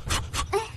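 A dog in an animated show pants close up in three quick, breathy bursts, each short and rhythmic.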